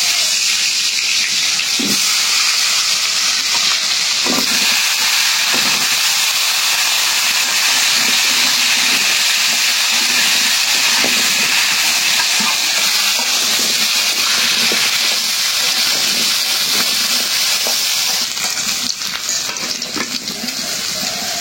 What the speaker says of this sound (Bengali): এই তেলেই আলুগুলি ভাজা দিই